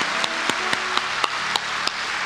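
A church congregation claps together in welcome during a Sunday service, a steady, full wash of applause with a few louder accents, fairly close and continuous.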